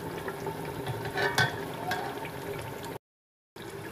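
Chicken pulao fries in a pan over raised heat, giving a close, steady sizzle with a brief louder stir, then a short drop to silence before the frying resumes.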